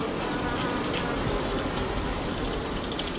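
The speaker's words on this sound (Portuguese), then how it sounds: "as abelhas se comunicam através do som de suas asas" Steady, continuous buzzing of bees' vibrating wings, close and even throughout with no pauses.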